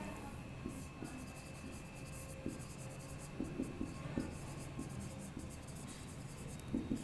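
Chalk or marker writing on a board during a biology lecture on cells, quick scratchy strokes in short bursts with brief pauses, fairly faint and close, with no talking over them.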